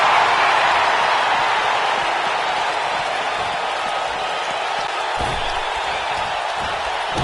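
A wrestling arena crowd roars and cheers in a dense, continuous wall of noise that stays loud and steady throughout, with a commentator's voice partly buried beneath it.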